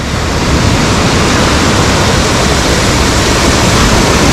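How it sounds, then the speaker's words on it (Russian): The swollen Svirka river in Lazarevskoye rushes over a washed-out concrete base, a loud, continuous, broadband roar of turbulent water close by. "И пока вот такой вот бурный-бурный поток."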